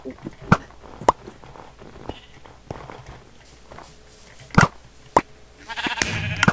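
Short, faint sheep bleats are scattered among sharp clicking and chopping game effects, with a burst of busier noise near the end.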